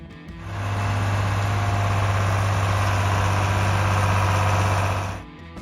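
John Deere 4020 tractor engine running with a steady, deep low drone and a rough, rumbling texture, holding evenly for several seconds before cutting off.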